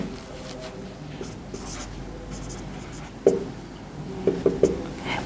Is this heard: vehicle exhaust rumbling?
no